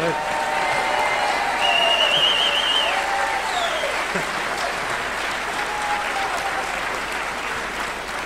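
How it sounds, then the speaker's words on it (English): Sustained applause from an audience at a political Q&A event in Bolton fills the whole stretch, steady and fairly loud, with a few whistles and cheers rising above the clapping. "give him another round of applause"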